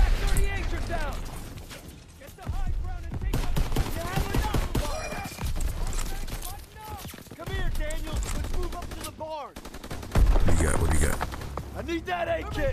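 Bursts of rifle and machine-gun fire in the World War II shooter Call of Duty WWII, rapid volleys repeating across the stretch with speech over the shooting.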